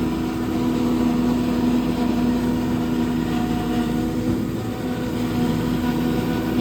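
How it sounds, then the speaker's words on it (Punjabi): A 90 HP tractor engine runs steadily nearby, its constant droning hum carrying a rattling, knocking edge throughout. No one speaks over it. "ਉਧਰ ਦੇਖੋ ਮਸ਼ੀਨ ਤਾਂ ਖੜਕਣੀ ਜਿਹੜੀ ਖੜਕਣੀ ਆ ਟਰੈਕਟਰ ਹੀ ਬੁਰਾ ਹਾਲ ਕਰਿਆ ਪਿਆ"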